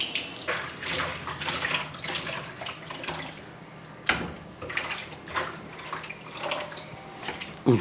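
Fish pieces for a Kerala-style fish curry are rinsed under running water, a steady splashing and trickling stream with brief louder surges, close by and with no talk.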